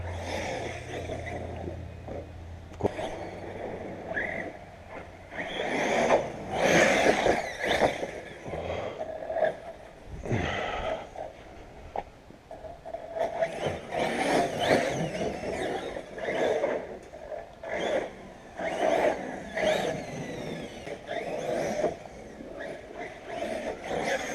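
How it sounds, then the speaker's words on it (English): A fast car, quicker than an NT80, on a bashing run: a buzzing engine revs up and down in repeated loud surges, with a possible rubbing noise, continuing without a break. "This car's way faster than an NT80"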